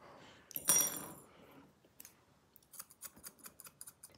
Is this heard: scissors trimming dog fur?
yes